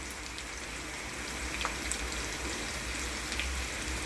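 Chopped onion frying in a pan for a radish and radish-greens curry, a soft, steady sizzle with faint crackling pops, quiet and continuous.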